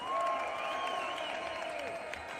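A crowd at a large free-speech rally in London cheers and applauds for Irish patriots, a steady mass of clapping with raised, wavering voices.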